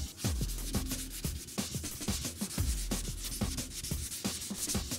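Car body panel being wet-sanded by hand with 400 grit wet and dry paper in paint prep, a steady, loud, rhythmic back-and-forth rasping strokes close to the microphone, no voices.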